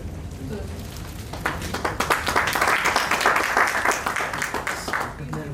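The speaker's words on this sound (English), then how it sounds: "A big round of applause." An audience breaks into applause, steady dense clapping that swells and then eases off, with a voice speaking over it at the start.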